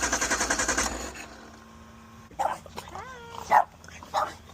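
A puppy lets out several short, high yips and barks, close by, following a rapid mechanical rattling at the start.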